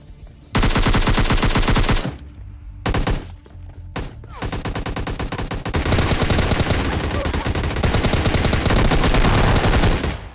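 Sustained automatic gunfire from AK and M4 rifles in the PUBG Lite winter-update hotdrop, loud and near, rattling in dense continuous bursts with a few short gaps between volleys.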